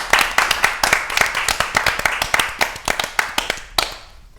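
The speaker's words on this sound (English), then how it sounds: "I think it deserves a clap." Rhythmic hand clapping from a small audience at a fashion panel discussion, sharp distinct claps in a steady beat, close and clear with no talking.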